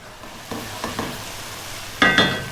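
Tomato paste cooking in a pot, a soft sizzle with a few spoon scrapes and stirring knocks, the last strokes louder and sharper.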